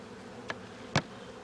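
Honey bees buzz faintly around a beekeeper working a hive, a soft low hum with two brief sharp clicks from handling tools.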